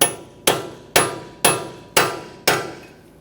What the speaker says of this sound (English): now you can peen over your nut. You can use a chisel and a hammer